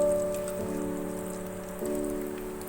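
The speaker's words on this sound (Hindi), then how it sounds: "हम इनको हल्की आंच पे डीप फ्राई करेंगे।" Samosas deep fry in oil over low heat with a soft, steady crackle and sizzle, heard alone and close, fading slightly and then swelling again.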